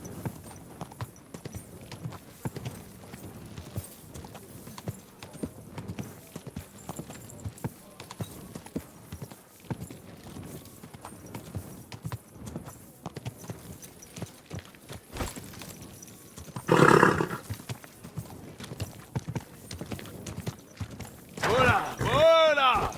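A horse walks with steady clip-clopping hooves throughout, the rhythm continuing under quiet talk and background noise, with a few louder bursts near the end.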